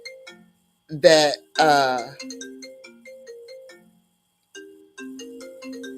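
A mobile phone ringtone plays a short melodic sequence of electronic tones, breaking off for a moment while a person speaks loudly over it and then resuming at moderate volume.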